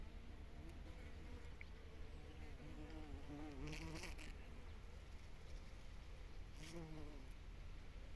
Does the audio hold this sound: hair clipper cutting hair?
no